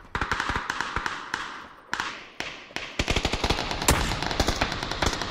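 Rapid gunfire in the video game PUBG, loud close bursts of automatic shots with a few single cracks, rattling steadily and alone without talk.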